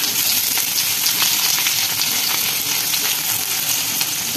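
Onions fry in a pan with a loud, continuous close sizzle and faint crackle throughout, with no talking.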